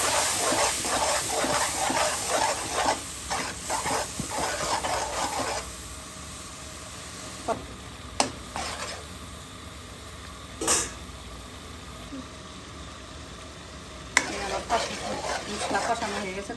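Spices frying in oil for chicken curry, with turmeric, chilli, coriander and cumin powders stirred in a pan: crackling sizzle with scraping stirs early, then quieter hissing broken by sharp utensil clinks and a final burst of stirring.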